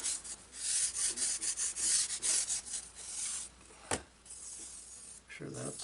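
Balsa wood frame sanded smooth along the hinge line of a laser-cut Sunbird V2 powered glider wing, a close rhythmic series of raspy back-and-forth strokes, then a sharp knock and a pause.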